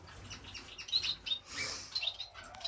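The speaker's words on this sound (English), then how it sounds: "Zebra finches." Zebra finches chirp in a bird room, giving short, thin, high tweets in scattered bursts at moderate distance against a quiet background.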